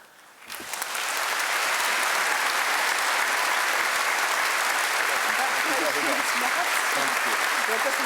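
Graduation audience at Cardiff University bursts into applause after a brief quiet moment, swelling quickly into loud, sustained clapping that continues steadily with a few faint voices mixed in.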